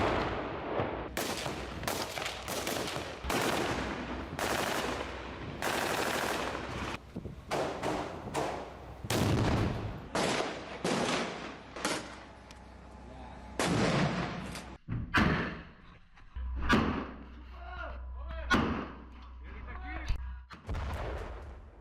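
Bursts of gunfire in news footage from Gaza, soldiers firing at fighters: repeated loud cracks and booming shots in irregular clusters, some rapid volleys, with heavy low thuds and wind buffeting throughout.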